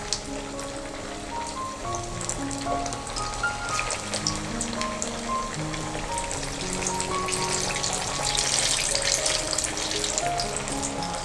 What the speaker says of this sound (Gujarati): તેમાં આપણે આ કટલેટને ફ્રાય કરવા માટે એડ કરી દઈશું.